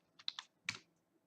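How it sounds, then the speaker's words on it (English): Typing on a computer keyboard for a Kali Linux terminal on Windows: a few quick, close key clacks in a brief cluster, then one heavier keystroke, with quiet pauses between. "So let's say I'm typing in Metasploit."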